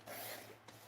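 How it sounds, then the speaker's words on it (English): A trimmer with a worn blade cuts in one short, dry rasping scrape that is close and faint and lasts under a second. "trimmer is acting up here. Might need a new blade."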